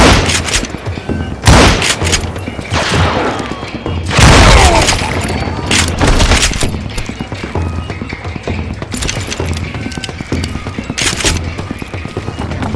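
Western-style gunfire from the video game Call of Juarez Gunslinger: a loud fusillade of repeated shots and booms in irregular bursts, with game music and effects underneath throughout.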